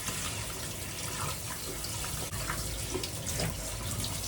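Running water splashes steadily as plant roots are washed clean of moss under a tap, a continuous rushing flow with small shifts in texture, close and alone.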